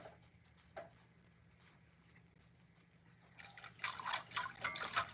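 Homemade banana pudding is stirred in a pot, giving a faint hush that gives way to close, wet, sloshing swirls in the last couple of seconds, with no talking.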